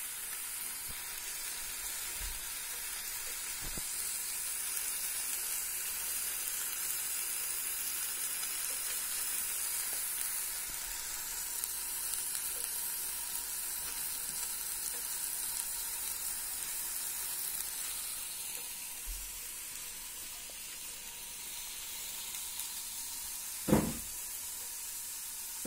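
Duck cooking on a smart multifunction grill as the fat drips into the tray, giving a steady, faint sizzle and hiss with a few soft ticks and one brief louder pop near the end.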